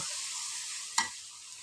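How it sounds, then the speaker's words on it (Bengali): Biryani spice paste, mixed in water, frying in hot oil in a pot, a steady close sizzle broken by a single sharp stir or scrape of the spoon near the middle, with no talk. "এবার মশলাগুলো ভালো করে কষিয়ে নেব"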